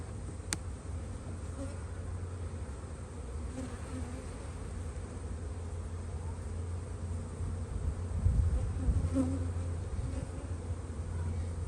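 Honeybees buzz steadily at an open spring hive during a brood inspection, a dense continuous hum that swells slightly toward the end, with no voices.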